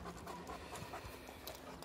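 A Brazilian Fila or German Shepherd dog panting steadily and rhythmically close by, a soft quick breathy rasp with no other sounds.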